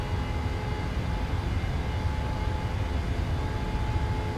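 Airliner jet engines at takeoff power in Microsoft Flight Simulator, a steady loud broadband roar with a low rumble and a faint tonal whine, continuous and unchanging, with no voices.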